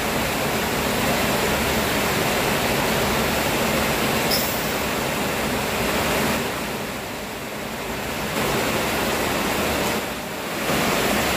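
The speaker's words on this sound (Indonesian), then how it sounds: "Oke, hujannya tambah deres." Heavy rain pouring down hard during painting work in humid conditions, a loud, dense, steady roar of falling water that swells and eases slightly.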